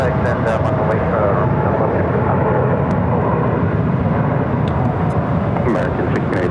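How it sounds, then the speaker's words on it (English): A Southwest Boeing 737-700 in Florida One livery arrives at Phoenix from Burbank, its jet engines making a loud, continuous broadband roar that holds steady throughout. "this is Florida 1 livery on the 737-700 coming back from Burbank, California."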